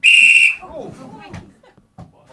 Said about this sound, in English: And you've got the whistle.